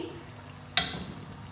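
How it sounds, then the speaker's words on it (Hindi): Ajwain seeds drop into a sizzling fish curry masala in a pan, making a single sharp crackling burst that settles into a soft, steady sizzle, close and quiet. "अब इस स्टेज पर मैं यहाँ तकरीबन 1/2 टीस्पून अजवाइन डालूँगी"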